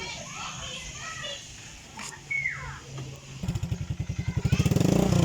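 A Honda Airblade 150i scooter fitted with a Villain muffler is started and revved, with rapid pulsing exhaust building louder toward the end over outdoor background noise of children and birds.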